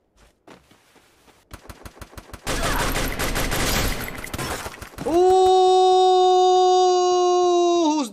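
Bursts of gunfire from the video game Free Fire, with sparse single shots giving way to a dense, loud volley, then a sustained tonal ringing or alarm-like tone held to the end.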